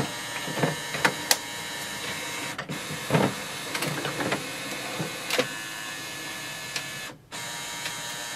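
An HP OfficeJet Pro 9025 printer whirs and clicks steadily nearby while scanning, with mechanical rattles and a few sharp ticks as a page feeds through.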